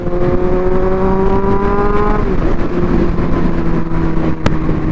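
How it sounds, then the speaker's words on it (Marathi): A BMW car engine hums close by, its pitch sliding down as the car goes past, ending with a brief click. "काय कार आहे यार, BMW आपला आवडता ब्रँड आहे भाई."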